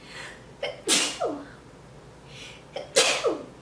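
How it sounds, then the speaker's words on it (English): Two loud, close sneezes, each preceded by a quick sharp intake of breath, with a short pause between them. "sneeze, thank you for whoever said bless you"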